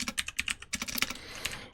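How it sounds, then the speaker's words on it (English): Rapid, close clicking keystrokes on a computer keyboard, with uneven bursts of taps and no voices. "I am having a hard time typing this morning."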